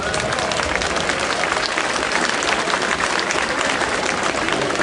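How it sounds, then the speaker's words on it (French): A large audience applauds loudly at a Grand'Margot intronisation ceremony, a dense, continuous roar of clapping with no pauses from start to finish. "je vous demande de bien tous les applaudir bien fort"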